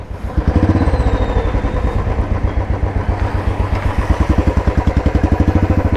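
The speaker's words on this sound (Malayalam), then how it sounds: "സൈലൻസർ ആഫ്റ്റർ മാർക്കറ്റ് വെച്ചുകൊണ്ട് തന്നെ നല്ല മുഴക്കുള്ള ശബ്ദം ഇതിന് കിട്ടുന്നുണ്ട്." A Royal Enfield BS6 Standard motorcycle fitted with an aftermarket silencer runs close by, its single-cylinder engine thumping in a loud, steady, evenly spaced exhaust beat with a deep booming tone.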